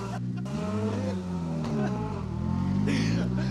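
A Subaru rally car runs hard on a rally stage, its engine note rising and falling through gear changes, loud and close, with a brief tyre scrub and talk over the top.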